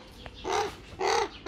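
Two hoarse caws from a tame, dark black crow, close and loud, the second following about half a second after the first, with no talk.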